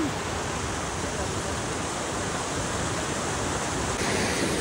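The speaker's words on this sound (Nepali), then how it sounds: "सुनखोला सुनको खोला है गाइस यो" A flowing mountain stream, the Sunkhola, on a trek in Nepal's Annapurna region, heard as a steady broadband rush of water that stays even and loud throughout, with no voices.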